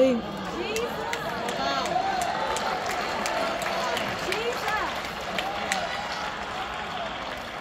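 A church congregation claps together amid a dense crowd wash of voices and shouts, with scattered sharp hand claps rising through a steady, fairly loud roar that holds for the whole stretch.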